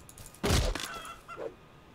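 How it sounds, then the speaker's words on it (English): A chicken killed in the survival game Rust: a sharp, loud thud with a brief squawk, followed by a fainter cluck a moment later. "I will kill the chicken."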